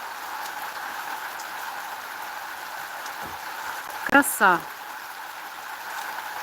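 Steady rain hisses and patters throughout, with a voice briefly speaking partway through.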